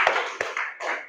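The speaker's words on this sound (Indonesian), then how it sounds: "Alhamdulillah. Tepuk tangan." A short burst of classroom clapping after pupils recite a phrase in a religious lesson, two or three quick claps close by against a background of children's voices.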